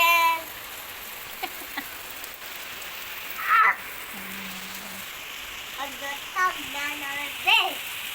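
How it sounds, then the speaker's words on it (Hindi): Steady rain falls outside and makes a constant hiss across the whole stretch. A voice and an adult's voice speak over it now and then. "बाहर बारिश, देखो बारिश देखो कितनी अच्छी बारिश हो रही है।"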